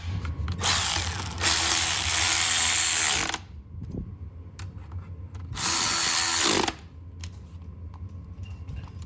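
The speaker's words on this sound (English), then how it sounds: "this stinking quarter drive ratchet's acting up again." Quarter drive ratchet on a 2.0T engine being prepped for install, two bursts of rapid clicking ratcheting, each a few seconds long, loud and close, separated by quieter clinks and handling noise.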